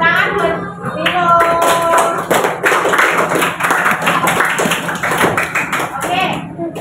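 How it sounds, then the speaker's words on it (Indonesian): Students in a fifth-grade classroom clap together in a loud, sustained round of applause, brisk overlapping claps lasting several seconds with a few voices mixed in. "Beri tepuk tangan buat Lilo."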